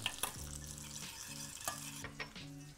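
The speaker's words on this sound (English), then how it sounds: "let it sit in a warm pan and heat up our puree and our sauce" Puree and sauce warming in a pan, a quiet close sizzle with soft scraping stirs and a faint low hum underneath.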